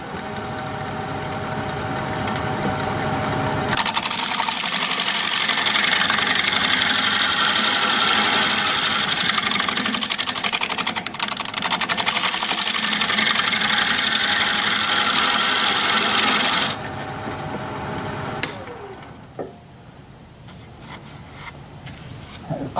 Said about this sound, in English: I'm going to shear scrape a little bit.